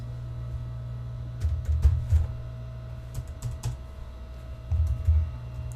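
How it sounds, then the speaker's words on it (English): Bursts of typing on a computer keyboard while text goes into a simple calculator program, clustered clicks in short runs over a steady low hum, fairly close and alone. "typed in some text"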